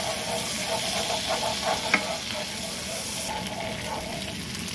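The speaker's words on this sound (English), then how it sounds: "now we're just going to go ahead and add our garlic. And we're just going to cook and stir that for about 1 minute." Garlic stirred and sizzling in a hot pan, a steady frying crackle with brief scraping strokes from the spoon, close and moderately loud throughout.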